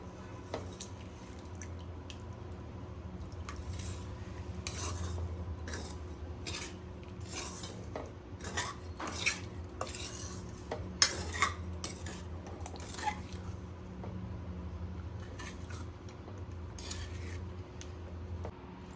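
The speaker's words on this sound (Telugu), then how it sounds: "ఇప్పుడు నిమ్మరసం కలుపుతున్నా చూడండి" Lemon juice being stirred into a batch of spicy chicken pickle, with soft wet squelching and repeated light clinks of a spoon against the vessel, a steady low hum running underneath throughout.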